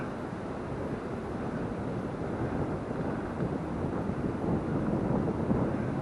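Strong wind roars steadily through a hardwood forest around a solo winter hot-tent camp, a dense continuous rush that swells slightly louder toward the end, with no talking.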